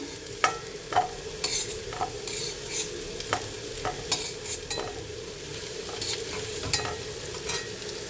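Potatoes fry and sizzle in a wok, with a steady hiss of hot oil broken by repeated scraping stirs of a spatula at an irregular pace, close and fairly quiet. No one speaks.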